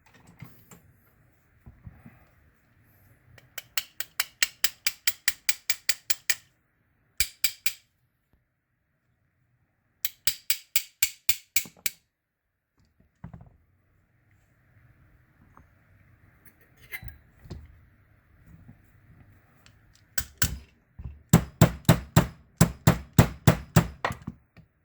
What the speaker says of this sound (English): All right, so we're gonna get the side plate screws off.